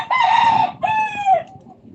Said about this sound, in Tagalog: Ganito talaga sa probinsya. Maraming manok.